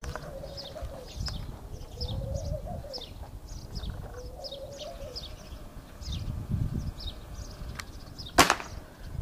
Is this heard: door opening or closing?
no